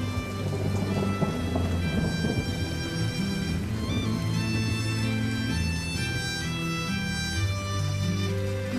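Heavy rain pours steadily while thunder rumbles through a storm, dense and continuous and close, with no voices over it.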